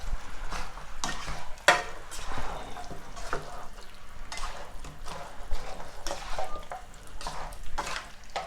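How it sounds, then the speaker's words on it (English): Curried venison meat being stirred in a pot, a steady wet scraping and sizzling texture with repeated spoon strokes, close and moderately loud, no voices. "just add in the meat in the pot, give it a nice stir"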